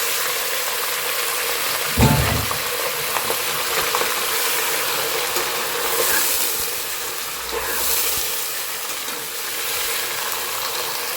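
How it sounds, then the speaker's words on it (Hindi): Washed tripe frying in hot oil for a butt salan, a steady broadband sizzle throughout with a few stirring scrapes and clicks, including a louder knock near the start; no talking. "ऑयल में हमें ये बटे जो है बहुत अच्छी तरह से फ्राई करनी है।"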